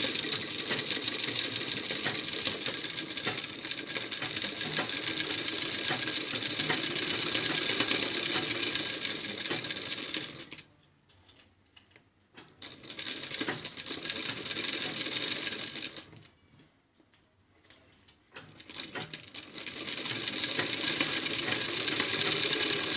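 An electric sewing machine stitches fabric for a hair bun cover, running in long steady bursts that stop for two short pauses, loud and close with no talking.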